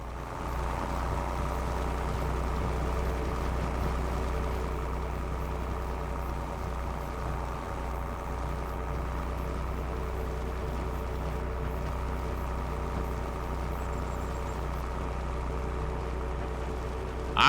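A tractor in Farming Simulator 25 sits idling with a steady, low, even drone that holds constant throughout, moderately quiet and with no talk over it.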